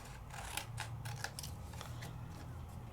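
Scissors snip through paper as a card is trimmed, making a few quick, close cuts and crisp rustles with no talking.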